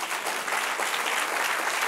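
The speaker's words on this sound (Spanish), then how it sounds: "Dale un aplauso al que reina." A church congregation applauds during a Spanish-language sermon on conscience and spiritual maturity, producing a dense, steady wash of clapping that stays even and close throughout, with no break.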